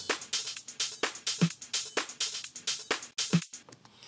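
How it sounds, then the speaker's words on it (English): Sampled drum loop built mostly on crisp hi-hat hits with an occasional snare, a steady bright ticking pattern repeating about twice per second, playing alone without any talk. "because this is mostly hi-hat. This loop actually has a snare in it"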